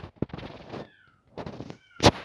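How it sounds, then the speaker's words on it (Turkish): A cat meows a few times nearby, short and fairly loud, mixed with game sound effects and a sharp burst near the end. "Ya yine kedi sesi geliyor."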